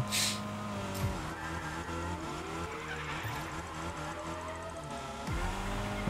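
A race car in RL Racing roars at a steady high pitch, revving up and down through gear changes, with a tire screech near the start and a downshift near the end, loud and alone.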